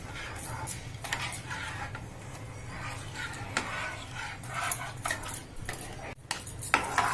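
Utensils clinking and scraping against a pot while a semolina mixture for dry-fruit chivda is stirred, irregular taps and clatters, fairly quiet with no talking.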